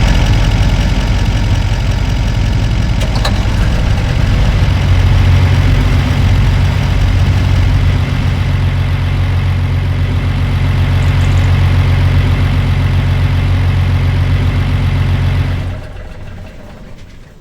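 A truck engine idles in the video game Farming Simulator 25, a loud steady low rumble that shuts off near the end.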